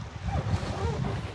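A boat engine runs out on the open sea, a steady low drone mixed with wind and water noise close to the microphone, with a faint voice partly audible.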